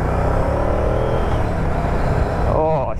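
A 2023 Moto Guzzi V100 Mandello engine runs with a steady, close, throbbing rumble throughout, with a brief shift in tone near the end.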